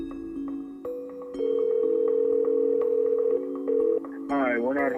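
A telephone call rings out through the earpiece, repeated steady electronic ringback tones at a moderate level, ending as a voice begins to speak.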